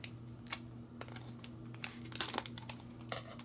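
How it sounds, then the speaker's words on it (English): Close, quiet crinkling of plastic packaging as scissors cut it, with a few sharp snips and rustles, irregular and soft, against a low steady hum. "with the scissors, I always have to cut the plastic"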